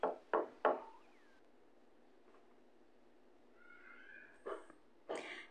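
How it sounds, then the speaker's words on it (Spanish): Three dull, quick thuds of a knock on a door, close and muffled, followed after a quiet pause by higher cat-like cries. "Se oye un golpe sordo en la puerta."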